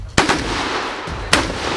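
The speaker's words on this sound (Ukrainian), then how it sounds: "П'ять пострілів в одну мішень." Two sharp gunshots crack out about a second apart at a shooting target, loud and close, each followed by a short echoing tail.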